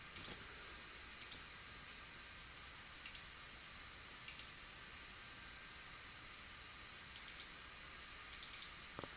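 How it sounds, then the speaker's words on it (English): Faint, crisp computer mouse clicks come in quick pairs of double clicks, spaced several seconds apart over a low, steady background hum. "I'm just double clicking, and I'm going to make one more layer"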